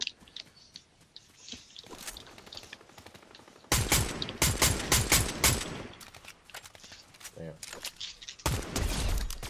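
Gunfire in the video game Fortnite: rapid bursts of shots in dense, close volleys that start suddenly partway through and come back in repeated clusters, with a player talking during the quieter stretch.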